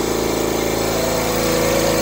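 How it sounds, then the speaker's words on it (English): Air compressor for an AEON MIRA 7 laser runs steadily nearby with a constant, pulsing mechanical drone and vibration, loud and alone throughout. "I'm now going to go ahead and turn off the compressor so I can hook up the rest of the air connections"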